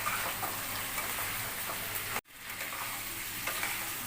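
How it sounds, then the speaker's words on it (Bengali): Chicken and fried potato pieces are stirred in a hot pan, giving a continuous dense sizzle and scraping with a brief dropout midway before the frying noise resumes at full strength. "এবার আলু ভাজা ছিল, আলু ভাজাগুলোকে দেওয়া হবে, দিয়ে ভালো করে কষিয়ে নিতে হবে।"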